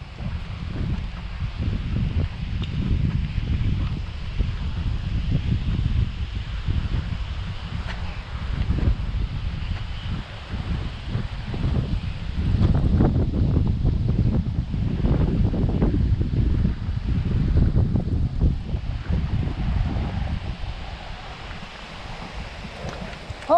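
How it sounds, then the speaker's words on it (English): Wind gusts across a forest hiking trail near Fargo, North Dakota, making a continuous low rumbling buffet against the microphone, with swells and lulls of rushing air and faint leaf rustle throughout. "Oh, the wind picked up a little bit."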